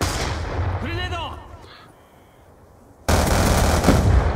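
Grenade blast and gunfire in the shooter game Black Ops 2: a voice shouts early, then a sudden loud, broadband explosion-like burst hits after a quiet gap and roars on to the end, with battle noise throughout.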